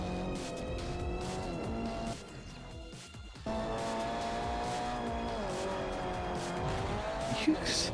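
A race car in Forza Motorsport 4 drives on track, with a sustained engine drone and shifting revs, a brief gear-change dip, and tire squeal, while a voice talks over the game sound.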